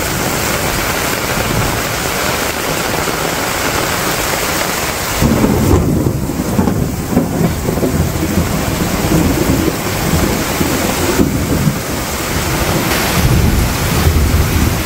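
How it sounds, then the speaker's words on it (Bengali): Heavy rain pours steadily with rumbling thunder, a dense continuous roar that swells louder about five seconds in and stays strong, with wind buffeting the microphone. "তো প্রচুর পরিমাণে বৃষ্টি হইতেছে।"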